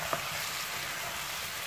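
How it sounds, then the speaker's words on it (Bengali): Chopped tomato being stirred into chicken frying in a pan, a steady even sizzle with a soft clink of the spoon near the start, with no voices. "টমেটোটা দিয়ে একটু নেড়ে দিব"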